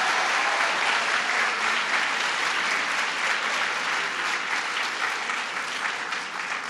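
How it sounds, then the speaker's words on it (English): Audience applauding at a governor's education bill signing ceremony, dense sustained clapping from a large crowd in a hall, loud and even throughout before easing slightly at the close. "Let's give him a big round of applause."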